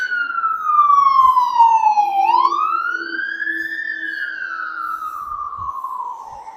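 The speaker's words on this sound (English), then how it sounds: "Somebody's having a bad day whenever you see a fire truck go by." Fire truck siren wailing as it passes on a street in Regina, loud and close, a single rising and falling tone sweeping down, up and down again over faint traffic.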